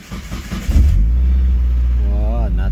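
A custom turbocharged Toyota 1NZ four-cylinder catches and fires, settling into a loud, steady, deep idle drone with a few rising revs near the end; faint voices murmur before it starts.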